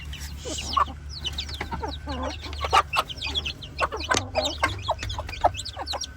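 Chickens and chicks cluck and chatter in short, repeated bursts close by, with a steady low hum underneath and no talking.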